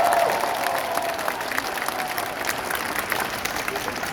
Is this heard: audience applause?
yes